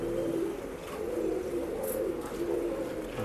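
Pigeons coo steadily at a pet shop in Bangalore, a low, continuous murmuring chorus that overlaps from several birds, fairly close and moderately loud, with no voices over it.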